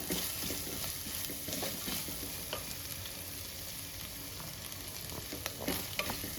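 Jalebi fish fries in hot oil in a pan, giving a steady, dense sizzle and crackle from start to finish, with scattered pops and occasional stirring scrapes close by.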